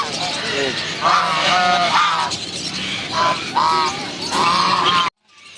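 Black-shouldered peafowl in a bird shop giving several loud, nasal honking calls in bursts, with people talking in the background.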